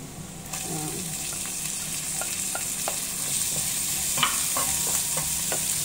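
Onion dropped into a pan of garlic frying in oil, a steady close sizzle with scattered crackles and light stirring scrapes, no talk.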